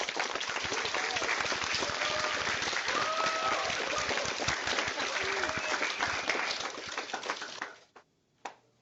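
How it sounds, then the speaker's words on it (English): Sustained applause for Pro Football Hall of Famer Dave Wilcox, many hands clapping steadily at an event, with brief voices mixed in, holding full for about seven seconds before fading out near the end. "join me in giving a warm round of applause to Pro Football Hall of Famer Dave Wilcox"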